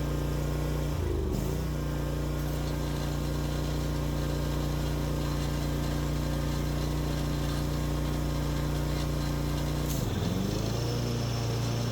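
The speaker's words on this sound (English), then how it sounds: "So, let's start it up and make sure everything works." A Bobcat walk-behind mower's engine after a full service, running loud and steady at close range with a low droning hum, dipping briefly near the start and again near the end.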